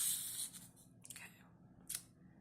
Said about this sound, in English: I ripped right through the crepe paper